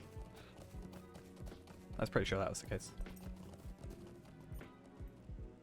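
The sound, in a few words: horse hooves clip-clop in video game Lord of the Rings Online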